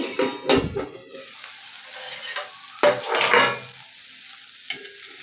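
A lid comes off a pan of okra, followed by a spoon stirring and scraping the okra around the pan in a few clattering bursts, with a soft sizzle beneath and a small clink near the end.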